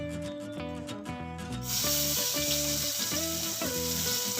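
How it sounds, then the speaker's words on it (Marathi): Rice is dry-roasted in a pan for kheer, a continuous gritty scraping and rustling hiss that starts after a short stretch of background music, which keeps playing underneath. "तांदूळ आपल्याला भाजून घ्यायचंय"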